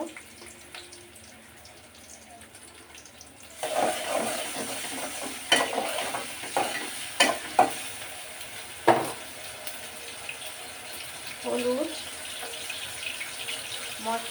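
Fish frying in a pan as ginger garlic paste is added, with a steady sizzle that swells after a few seconds and is broken by scraping stirs and soft clatters.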